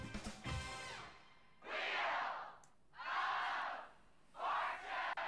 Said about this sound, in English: Looks like a nice crowd tonight, doesn't it?